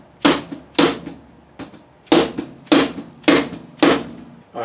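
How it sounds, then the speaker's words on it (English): Seven sharp, close hammer taps drive a fret into the neck of a guitar under restoration, struck at a steady pace about half a second apart with no voices. "So I'll put 1 more fret in"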